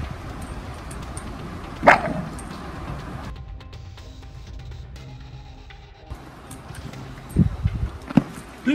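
An American Staffordshire Terrier barks in short, sharp bursts: one loud bark early on, then a quiet stretch, then a cluster of close, gruff barks near the end.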